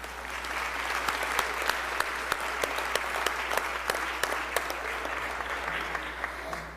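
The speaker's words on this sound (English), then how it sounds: "all give them a big round of applause." Applause fills a legislative chamber on a state house floor, honoring a state championship girls' team; dense, steady clapping from many hands with sharper individual claps standing out, holding evenly throughout before tapering slightly at the end.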